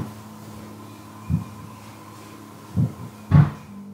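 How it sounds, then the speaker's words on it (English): A door thuds shut with a dull low knock during a paranormal investigation, followed by two more heavier thumps close together near the end, set against a faint steady hum. "It sounds like a door closing,"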